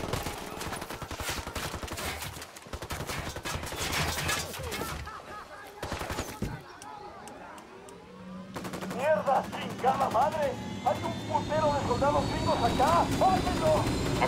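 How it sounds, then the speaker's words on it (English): Rapid automatic gunfire in the video game Ghost Recon Wildlands, dense bursts with engine and aircraft-like drone, loud and continuous, shifting to chirpy background effects later, with voices talking over it. "Opening fire."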